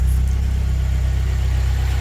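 A Corolla converted from AE71 to AE86 GTS idles through a JDM header, T3 test pipe and HKS Sport exhaust, a steady, loud, low, even burble up close with no voices.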